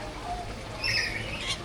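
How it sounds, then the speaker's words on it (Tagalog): Colorful birds calling in a jungle trek enclosure at Cebu Ocean Park, a few brief high chirps and squawks over steady background ambience, no talk. "Maraming mga ibon, makukulay."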